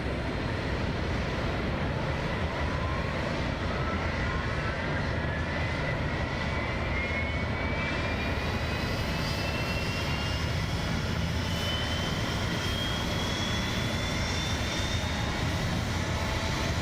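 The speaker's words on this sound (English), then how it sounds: "Engine coming to life." An F-35B Lightning jet engine spooling up in the flight simulator MSFS 2024, a steady loud roar with a whine that slowly rises in pitch throughout, with no voices over it.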